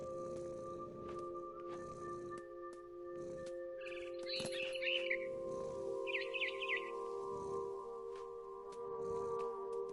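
A bird chirps in a first-person video game world, giving short, repeated calls in a few quick bursts at mid-distance over a steady low ambient hum and soft intermittent footstep-like thuds.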